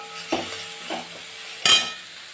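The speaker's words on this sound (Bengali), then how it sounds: "আমি আদা বাটাটা দিয়ে ভালো করে নাড়াচাড়া করে নেব" Spoon stirring ginger paste into chicken masala in a pan for chicken kosha, giving a few scraping clinks with a sharper metallic knock near the end over a faint sizzle.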